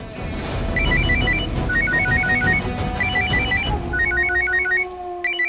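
A phone ringtone plays repeated bursts of bright, chirpy electronic tones in a steady pattern, ringing loudly over a low background hum.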